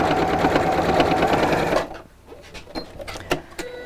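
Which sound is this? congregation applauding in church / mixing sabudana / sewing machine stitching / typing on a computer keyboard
sewing machine stitching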